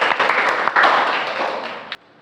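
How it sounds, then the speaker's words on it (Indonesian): A classroom group applauding together, a burst of dense clapping that fades gradually and then stops abruptly. "Oke, beri tepuk tangan untuk kita semua."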